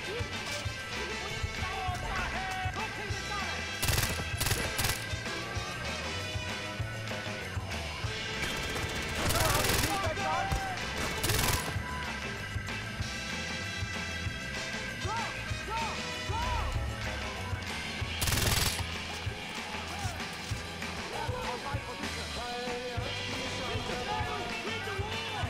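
Dense video game combat in Far Cry 4, with RPG blasts and rattling gunfire crashing repeatedly over a continuous loud battle din, several sharp explosive bursts standing out.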